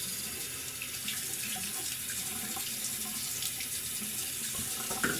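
Tap water running steadily into a sink during a face rinse after a shave, a close, constant splashing rush that goes on for several seconds without talk.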